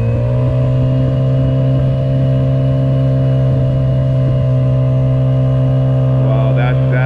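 A Honda 50cc outboard motor fitted with a bullnose rudder runs steadily at half throttle, a loud, close, even engine drone holding throughout with no let-up.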